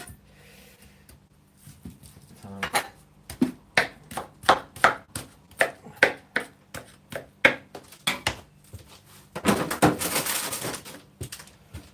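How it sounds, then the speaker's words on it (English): Food is chopped on a home kitchen cutting board: a quick run of about fifteen close, crisp knife strikes in a steady rhythm, followed by a brief rustling scrape as the pieces are swept aside. "We intended to practice our chopping,"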